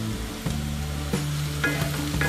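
Capsicum stir-frying in a hot pan for egg fried rice, a strong steady sizzle broken by a few sharp scrapes and taps of a spatula, close and loud, with no voices.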